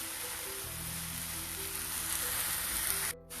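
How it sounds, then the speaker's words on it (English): Tomatoes and capsicum cook down in a pan, producing a steady, dense, rain-like sizzle that stays even before cutting out abruptly near the end. "We'll cook until the tomatoes become mushy and soft."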